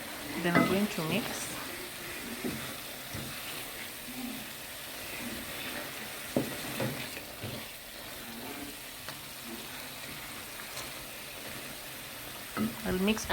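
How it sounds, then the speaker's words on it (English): Wet fry pork being stirred in a sufuria with a little added water and coriander, sizzling steadily with scraping stir strokes and occasional clinks, close and moderately loud throughout. "I'll mix until the water dries up in the sufuria."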